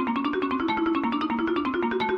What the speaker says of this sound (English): I like the way that it sounds if we map each dot to a note on the marimba